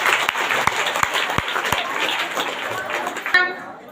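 A church congregation claps together during a healing service, a dense burst of clapping with a few sharper individual claps standing out. Voices murmur underneath, and the sound cuts off abruptly near the end.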